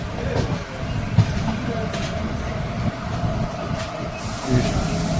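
Steady rumbling of trains at Nagercoil Junction, a busy railway station, with occasional clanks and clicks and faint voices in the background.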